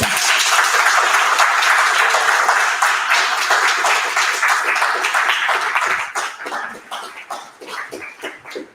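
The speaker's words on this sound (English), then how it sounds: "And thank you for your applause." An audience claps steadily after a book reading, a dense, loud wash of applause that thins into scattered claps near the end, with no voices.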